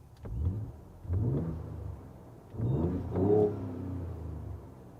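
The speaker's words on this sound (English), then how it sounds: "I'm going to open that rear window so we can hear what the exhaust sounds like." A Ford Ranger Raptor's exhaust, heard through an open rear window, revs in several throaty bursts: two short blips followed by a longer, stronger rev that settles into a sustained rumble, with no voices.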